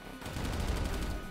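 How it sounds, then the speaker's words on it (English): Machine gun in the action platformer Corebreaker firing a rapid, continuous loud burst of fast repeated shots lasting about a second. "bazooka, machine gun, same as the default gun, but with a higher rate of fire"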